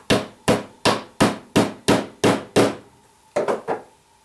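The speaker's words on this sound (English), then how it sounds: "with our hammer we're going to very gently, lightly tap down onto this dowel" A hammer gently taps a wooden dowel to seat the primer in a 12 gauge shotgun shell. Eight evenly spaced, crisp knocks sound close and alone, followed after a pause by three quicker taps.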